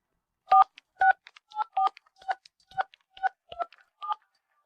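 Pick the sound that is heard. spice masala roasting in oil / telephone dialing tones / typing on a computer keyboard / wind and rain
telephone dialing tones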